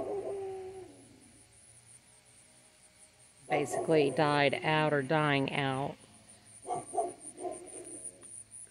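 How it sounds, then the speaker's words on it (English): A neighbor's dog barks and howls in a drawn-out burst mid-clip, loud and harmonic, while a person talks before and after it during outdoor fall garden cleanup. "Excuse my neighbor's dog barking."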